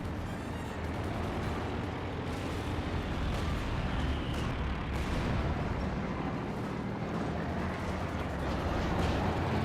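King Tiger tank gunfire in a Company of Heroes 2 battle, heavy booms and crackling blasts scattered through a continuous dense rumble of distant combat, moderately loud.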